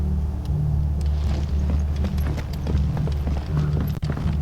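Horse hooves clip-clop steadily through Final Fantasy XVI game audio, a continuous rhythmic trotting layered over a dense, loud background of game sound.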